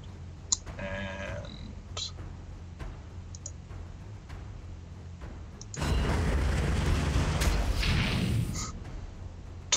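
Artillery fire in the game Warhammer 40K Armageddon: small clicks and light impacts, then a loud, broad rumbling barrage that swells and holds for a few seconds before dropping back to a low background hum.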